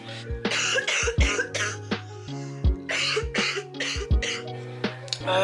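Someone with a sore throat coughs repeatedly, about ten harsh bursts in an uneven rhythm, close to the mic over a steady low tonal hum.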